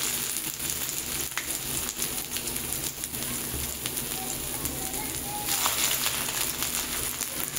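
Dried chillies, bay leaves and chopped ginger crackle in hot oil as a dense, rain-like sizzle, steady and close throughout with faint clicks.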